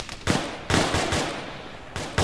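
Bursts of rapid gunfire crack out in several loud volleys, separated by short gaps, close and harsh.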